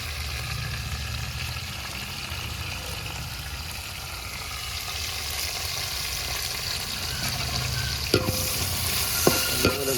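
Onion, ginger, tomato and curry leaves frying in a pan for a chicken parts roast, with a steady hiss of sizzling oil and soft scraping as the mix is stirred, plus a few sharp clinks of the spoon near the end.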